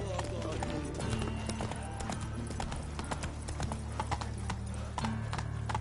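Horse hooves galloping in The Witcher 3, a fast, steady clip-clop close by under a voice, with a whinny and a low music bed.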